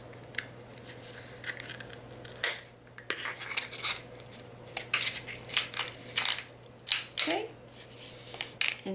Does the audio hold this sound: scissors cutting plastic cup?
yes